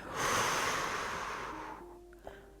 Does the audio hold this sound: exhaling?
yes